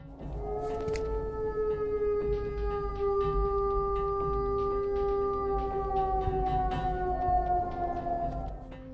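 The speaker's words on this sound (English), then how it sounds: "Howl in the night" An eerie, drawn-out howl carries through the woods at night, a long wavering tone that slowly sinks in pitch and holds steady for the whole stretch over a low, constant background rumble.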